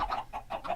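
Chickens cluck in short bursts in a video game chicken farm, several soft calls overlapping with no one speaking.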